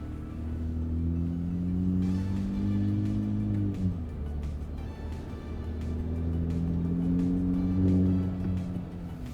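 A Ram 1500 pickup with a twin turbo exhaust climbs a hill slowly under load, giving a deep, steady exhaust drone that rises and falls in pitch as it pulls, heard from inside the cab.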